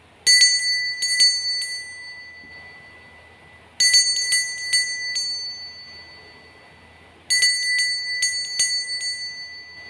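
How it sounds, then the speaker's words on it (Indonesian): A bright metallic bell rings in three separate bursts of rapid dings, each ringing out and fading before the next, with quiet between. "Kita akan memulai dengan ditandai lonceng berbunyi."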